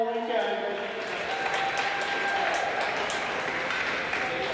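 Applause at a PeeWee boys hockey championship, steady clapping in an echoing arena with voices murmuring underneath and a faint tonal ring in the background.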